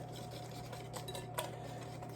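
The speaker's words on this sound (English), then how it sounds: "All right, so I'm mixing it in." A utensil scrapes and clinks against a bowl while ingredients are mixed in a home kitchen, a few light taps over a steady low hum, fairly faint.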